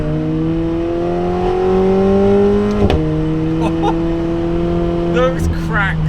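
A McLaren 750S accelerates on a mountain pass, its engine note climbing steadily and loudly, broken by a couple of sharp exhaust cracks and pops as it shifts.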